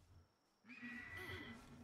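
A horse-like creature in the video game Palworld lets out a loud, wavering neigh that begins partway through and carries on to the end, preceded by quieter game ambience.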